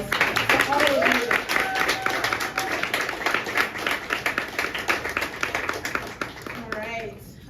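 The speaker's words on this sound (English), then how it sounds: "So another round of applause for all of you." A crowd at a fellows' final presentation event gives a round of applause, brisk clapping that starts loud and gradually thins out, with voices talking through it near the end.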